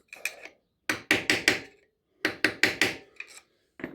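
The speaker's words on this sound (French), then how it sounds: "on peut donner 2-3 coups de marteau léger avec un tournevis pour commencer à la rabattre" Light hammer strikes on a screwdriver to bend back a bike chain part while fitting a sprocket and chain kit, sharp metallic taps in quick groups of three or four, close and loud.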